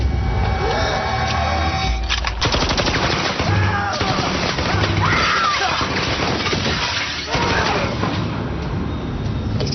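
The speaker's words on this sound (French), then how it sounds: "C'était des coups de feu, hein?" Rapid bursts of gunfire ring out in a chaotic, continuous barrage, loud and close, with sharp cracks and clattering impacts overlapping for the full stretch.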